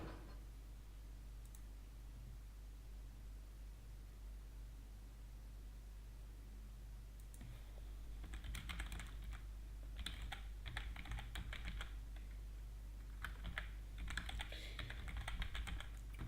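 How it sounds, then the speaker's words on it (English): Someone types on a computer keyboard in bursts of quick, faint clicks that start midway and continue in clusters, heard close over a quiet hiss. "I'm sorry that I'm typing a little bit in the background"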